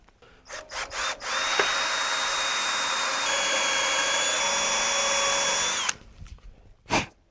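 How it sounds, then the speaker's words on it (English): A power drill bores into a truck axle at a slight angle, whining steadily for several seconds after a few short bursts, then stops, with a brief final rev; close and fairly loud. "Let's drill in a slight angle"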